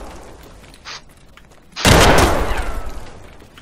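A loud, close blast from a video game firefight with gunfire, erupting suddenly midway after quieter background shots and trailing off in a long rumbling decay.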